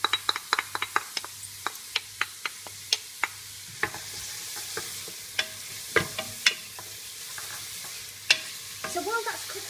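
Onions, chilli, garlic and ginger fry in a pan for a butternut squash curry, with a soft sizzle beneath repeated sharp spoon knocks and scraping stirs, close and unspoken over.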